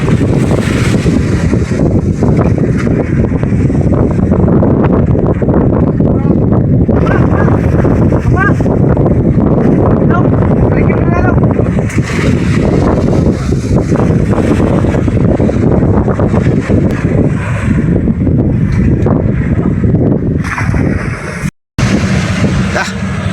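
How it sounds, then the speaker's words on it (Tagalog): Loud wind roars and buffets the microphone nonstop, with a rushing, churning wash like heavy water beneath and faint voices now and then, on a fishing boat in big sea waves. "Mas lalo pang lumaki yung mga alon. Tapos lumakas yung hangin."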